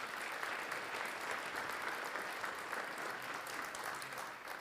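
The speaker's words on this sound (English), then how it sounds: "Now let's have some applause for them." A crowd at a public safety awards event applauds its elected officials with steady, distant clapping that holds evenly for several seconds and then starts to taper off.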